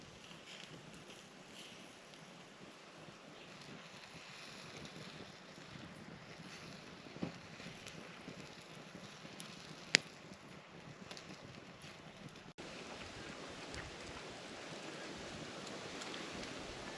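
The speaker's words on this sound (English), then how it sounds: "You could probably hear the wind now." Wind sweeping over the water at a kayak campsite, a faint, steady blustery rush with soft wave wash and no voices.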